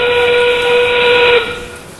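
A steam-style train whistle sounds at a robotics competition to signal the end game of an FTC match, a loud sustained multi-tone blast holding steadily for over a second before cutting off into arena ambience.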